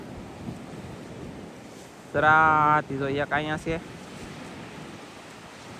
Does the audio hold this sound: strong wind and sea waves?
yes